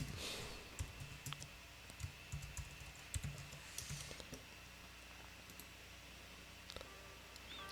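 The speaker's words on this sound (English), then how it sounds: "you guys see me like typing H1 and then pressing tab" Fingers type on a computer keyboard while coding, with soft, irregular clicks and a few sharper taps in scattered bursts, quiet and near with no talking.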